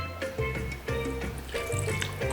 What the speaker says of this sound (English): This liquor that's left behind, pour all of this niceness inside.